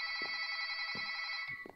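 Steady trilling telephone ring, fairly quiet and continuous, with faint thumps beneath it and no voices.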